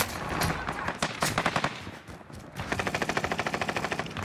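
MG42 machine gun firing from on top of a boat in Warzone on Rebirth Island, fast rattling automatic bursts, one dense early volley and a steady rhythmic stream later, loud and close.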